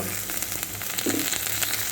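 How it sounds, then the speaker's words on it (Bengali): Dried loitta fish fries with onion and garlic in a pan, producing a steady, close crackling sizzle with faint stirring scrapes throughout. "দিয়ে ভালো করে নাড়াচাড়া করে অনেকক্ষণ ভেজে নেব"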